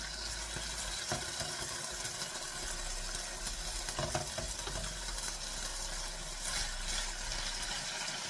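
Pork chops browning in a frying pan over medium heat give a steady, continuous sizzle with faint crackles and occasional stirring or scraping, close and even throughout with no talking.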